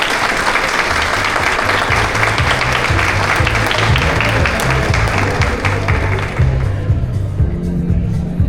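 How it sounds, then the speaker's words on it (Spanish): A lecture audience breaks into sustained, dense applause for an invited speaker on tax law, steady and loud throughout before tapering slightly near the end. "La recibimos con un fuerte aplauso."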